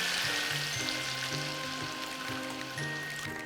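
Steady hissing and bubbling fills the whole stretch, a loud, continuous seething roil of water added to a very hot pot and rushing to a boil, with faint clinks.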